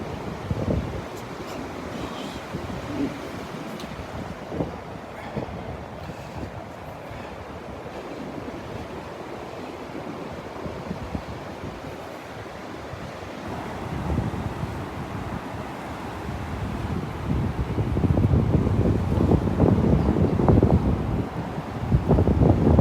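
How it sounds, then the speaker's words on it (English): Wind buffets the microphone on a beach walk at Delnor-Wiggins while surf rolls in, with steady rushing noise that swells louder toward the end; no talking. "I think the wind might be coming more out of the north this morning than the northwest."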